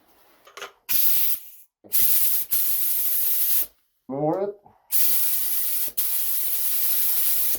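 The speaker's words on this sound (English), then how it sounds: "Alright, ready to spray." A spray gun hisses in several long bursts separated by brief pauses, applying rocker guard coating to a truck, with a short spoken instruction between sprays.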